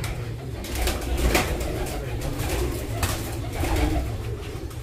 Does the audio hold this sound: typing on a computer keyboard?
no